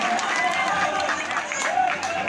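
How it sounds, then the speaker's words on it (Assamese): Audience applause and crowd noise at a stage performance, a continuous wash of clapping with voices talking over it throughout. "এটা জোৰদাৰ হাত চাপৰি প্ৰথমতে এই পোৱালিটোৰ কাৰণে"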